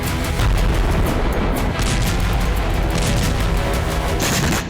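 Loud, sustained blast of rumbling explosive noise on the Russia-Ukraine battlefield filling the whole stretch, with sharp cracks and bursts layered over a heavy booming roar.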